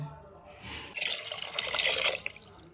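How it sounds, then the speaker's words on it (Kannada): Water poured into a cooking pan while making upma, a soft flowing splash that swells louder after a quiet start and runs steadily for a couple of seconds, with no talk over it. "ಒಂದು ದೊಡ್ಡ ಲೋಟದಲ್ಲಿ ಎರಡು ಲೋಟ ನೀರು ಹಾಕೋಣ"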